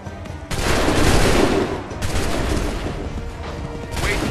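A firing squad's musket volley in the video game Assassin's Creed III, with loud, dense bursts of overlapping gunfire that repeat several times over a few seconds.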